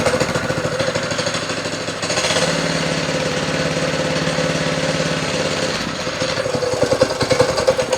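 A pull-start motor on a power trowel runs loud and close with a rapid, rattling chug that briefly steadies and then grows rougher again.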